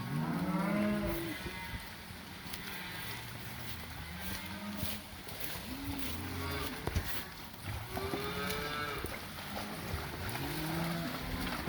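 Shiny cattle being driven ahead of a coming rainstorm, several animals lowing in repeated drawn-out moos at moderate distance, with faint background noise between calls.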